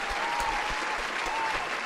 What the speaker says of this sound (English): This applause is for Ramon.